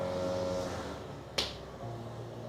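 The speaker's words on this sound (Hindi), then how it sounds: "ताली बजा दो" A single sharp hand clap lands partway through a home exercise class, standing out clearly against a low steady background with no talk.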